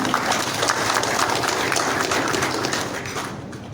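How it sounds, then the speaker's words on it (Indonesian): At the opening of a national working meeting of a community organization, a large crowd applauds. The dense, continuous clapping holds at a steady level and fades slightly toward the end. "Tepuk tangan untuk kita semua."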